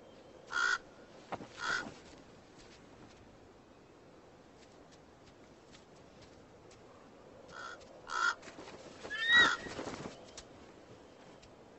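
Raven cawing while harassing a bald eagle over its food, harsh calls in two short bursts separated by a quiet stretch, fairly close against faint background hiss.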